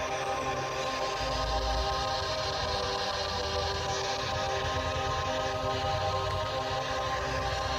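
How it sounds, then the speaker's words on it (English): A coal train sits near a cemetery, giving a steady low rumble and faint sustained tonal hum from the rail cars, heard at a distance without voices throughout. "You can hear the trains."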